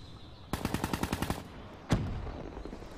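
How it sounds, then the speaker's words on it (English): Automatic gunfire in Call of Duty Black Ops 3, a rapid burst of about ten evenly spaced shots followed by a single louder report, crisp and fairly close with no talk over it. "I heard somebody shoot"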